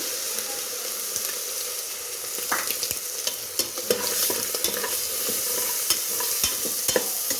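Ginger garlic paste sizzles and fries in oil for egg biryani, a constant crackling hiss with scattered scraping clicks from stirring, close up and without any voices.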